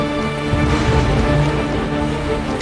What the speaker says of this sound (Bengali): সর্বাণী, এই হোগলা দিয়ে বৃষ্টির কিছুটা ছাঁট আটকানো যাবে।